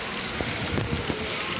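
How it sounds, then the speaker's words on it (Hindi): Steady rain hissing and pattering on a metal shop shutter during a sudden downpour in Faisalabad, a dense even wash with a few soft heavier drips, no talking. "शटर के ऊपर कितनी प्यारी लग रही है बारिश के छींटे"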